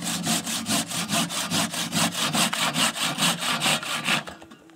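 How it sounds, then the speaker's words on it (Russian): An Izhevsk crosscut hand saw cuts through wood in a steady back-and-forth rhythm of about seventeen loud, close strokes, then stops. "Хорошая пила. Пила отличная."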